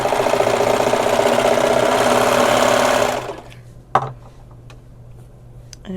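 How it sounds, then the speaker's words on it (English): A serger runs steadily and loudly, sewing a quarter-inch seam along the elastic-secured edge of a puffy dress sleeve, then stops abruptly, leaving a quiet hum and a few small clicks. "serge a 1/4 inch seam allowance along the edge to close up the sleeve"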